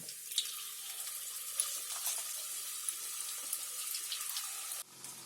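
Bhaji batter dropped into hot oil fries with a steady bright sizzle and crackle, a few louder pops scattered throughout before the hiss suddenly drops away near the end.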